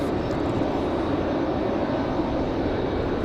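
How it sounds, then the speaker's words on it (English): Endeavor CRJ regional jet coming back around after a go-around at Raleigh-Durham, a steady, loud broadband engine roar filling the whole moment without change, no voices over it. "Here comes our CRJ that did the go around."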